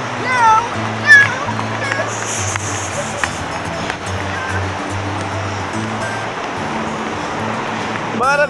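Sea waves washing and splashing on a beach at Algodões on the Maraú Peninsula in Bahia, a steady broadband surf wash with occasional splashes, while children and adults talk throughout.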